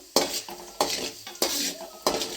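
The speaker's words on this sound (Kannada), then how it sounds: "ಇದು ಚೆನ್ನಾಗಿ ಆಯಲಲ್ಲಿ ಫ್ರೈ ಆಗಲಿ" Chana dal being fried in oil, with four sharp scraping strokes of a spatula against the pan at a steady pace, each followed by a brief sizzling hiss, close and clear with no talking.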